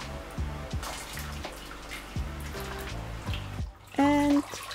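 Blanched beetroot greens go from boiling water into a bowl of icy water, making close splashes and sloshing water in bursts, followed by a short, clear electronic tone.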